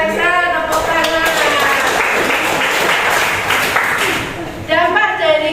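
Students in a classroom clap together in a dense burst of applause that lasts several seconds. A teacher's voice is heard at the start, and talk resumes as the clapping fades.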